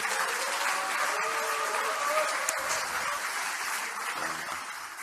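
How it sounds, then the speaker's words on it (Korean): Applause from attendees at a joint meeting of regional committee chairs and lawmakers, steady continuous clapping from a roomful of people that tapers off gradually toward the end. "박수 한번 부탁드립니다."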